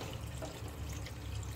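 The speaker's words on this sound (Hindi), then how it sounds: "देखिए इसमें मैं पानी डाल रही हूँ" Water is poured into a pan of simmering matar paneer curry, a continuous soft splashing and gurgling at low level with no talk.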